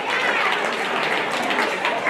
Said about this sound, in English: let's give all 3 of these exhibitors a big round of applause